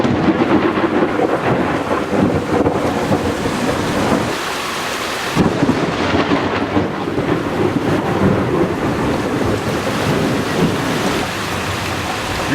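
A summer thunderstorm with prolific lightning: loud, continuous rumbling thunder rolls over steady rain, with one brief lull before another long peal, and no voices.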